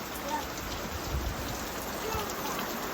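Soft, steady unseasonal summer rain falling, a faint continuous patter with no clear voices.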